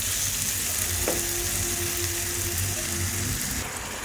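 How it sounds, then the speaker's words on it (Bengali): Chicken sautéing in a pan for curry while being stirred, a loud continuous close sizzle with occasional scraping, and a brief faint tone in the middle. "আমি চিকেনটা ভালো মতো নেড়ে নেড়ে কষাতে থাকবো"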